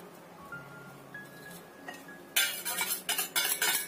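Muffin batter is stirred in a bowl, starting quietly and then turning into bursts of scraping utensil clinks against the bowl toward the end, close and fairly loud, with no talking.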